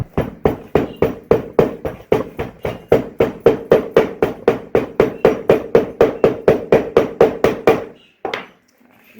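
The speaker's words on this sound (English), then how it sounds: "And compressing with the hammer." A hammer packs clay into a sand casting mould with a fast, steady run of sharp knocks, roughly four per second for about eight seconds, loud and close, then a brief pause and one last hit.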